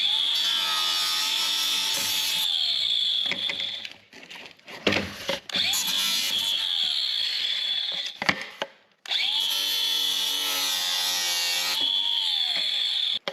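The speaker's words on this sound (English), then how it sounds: "This is just a plain old angle grinder with a cutoff wheel on it" A plain angle grinder fitted with a cutoff wheel cuts through curled wood from a damaged dwarf orchard tree, its loud, steady high whine running in three long bursts with a short sputtering gap between them.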